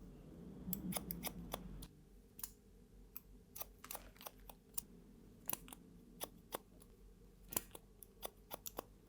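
Scissors snip through hair during a curly-hair cut: a close, quiet series of sharp single clicks, spaced irregularly and occasionally doubled, over a near-silent room.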